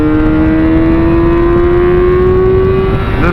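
Motorcycle engine pulling hard with the throttle held open, a loud steady rising whine as revs climb smoothly over several seconds, close and alone.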